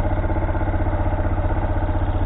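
A Motomel Skua 200 motorcycle engine idles with a steady, throbbing low putter, close up and constant, with no talking.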